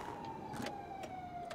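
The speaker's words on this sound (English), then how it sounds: "Where are those sirens coming from?" A faint police siren in the video game GTA V drones in the distance with a slowly sliding tone, accompanied by a few brief bursts of noise.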